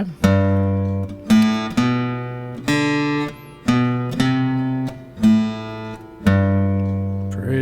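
Slow acoustic guitar playing a song intro as single picked notes with open-string bass, each note struck alone with a gap before the next, ringing clearly with no voices.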